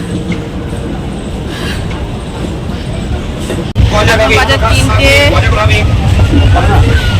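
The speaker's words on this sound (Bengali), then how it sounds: "ওই দেখো ট্রেনটা এখন ছেড়েছে।" A train rumbles loudly nearby as it departs a station, its steady roar rising abruptly midway with rattling wheels and some squeal, people talking over it.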